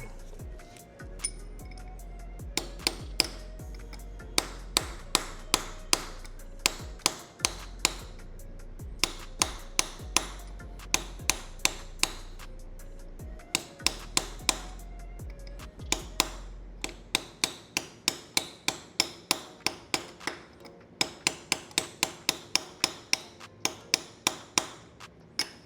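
A hammer strikes a chisel against a washer on a Kawasaki Eliminator motorcycle's front sprocket, giving sharp metallic taps in short irregular bursts that speed into a rapid, steady run of blows near the end.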